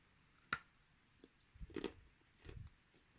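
A close, quiet bite into crunchy edible Bashkir clay with a crisp snap, followed by a few soft, muffled crunching chews, with no talking.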